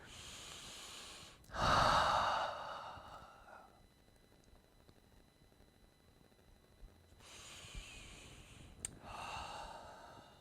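Two long, breathy exhalations during a ground-based mobility stretch, one strong near the start and a softer one later, separated by quiet room tone.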